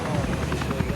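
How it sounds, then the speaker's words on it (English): Military helicopters set off toward a target house at night, their rotors giving a dense, steady thrum, with a voice talking over the noise. "Task Force Black sets off in their helicopters for the target house."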